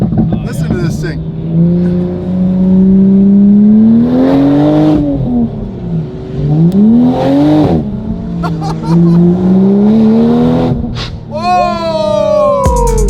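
Widebody 2020 Toyota Supra engine revving while driving, loud and close, rising and falling through several pulls and gear changes, with people talking and exclaiming over the engine noise.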